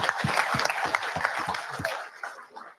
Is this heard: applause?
yes